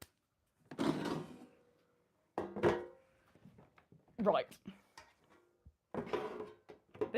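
Plastic drawers of a Cosori Turbo Tower Pro or Ninja Swirl air fryer slide and thunk several times in a row, close and moderately loud, with a person talking in between.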